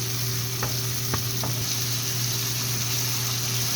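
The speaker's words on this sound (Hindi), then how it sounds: "अब मैं इसमें अपना अदरक लहसुन का पेस्ट डाल के भूनेंगे।" Ginger-garlic paste frying with onion paste in hot oil, a steady loud sizzle throughout with a few faint stirring clicks near the start.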